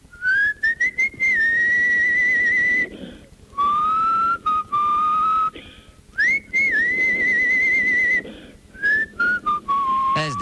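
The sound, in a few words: person whistling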